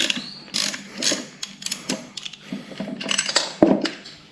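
A ratchet wrench clicks rapidly while loosening sprocket bolts on a Ducati motorcycle rear wheel laid flat, with busy metallic ratcheting, clanks and tool rattles close by and no talking.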